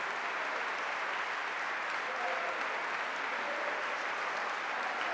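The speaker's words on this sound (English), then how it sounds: "please give a big warm round of applause to student minister Nuri Muhammad." An audience claps in a warm round of applause for a student minister being introduced at a speaking event, steady dense clapping filling the room throughout with no voices over it.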